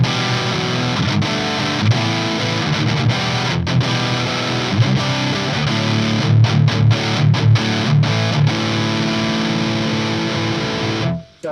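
A Hughes & Kettner TriAmp Mark 3 guitar amp on channel 2B with the gain maxed gives loud, thick distorted guitar, sustained chords broken by short choppy stops before cutting off abruptly at the end.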